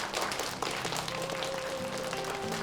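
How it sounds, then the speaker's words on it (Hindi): Steady applause from a small group of people clapping together, a dense, even patter that holds for a few seconds at moderate distance, with no talk over it. "तालियां बजाओ।"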